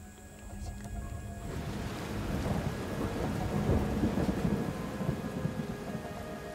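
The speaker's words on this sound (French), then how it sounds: "Au petit matin, sous un violent orage, nous reprenons notre route" A violent thunderstorm at dawn in Papua: steady heavy rain with a low rumble of thunder that swells midway, close and continuous, with no voices.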